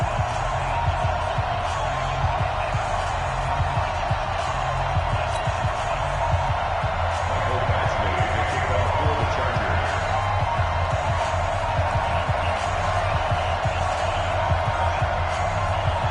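Constant stadium crowd roar in an NFL football video game before a matchup with the Oakland Raiders, a steady dense wash under a commentator's voice.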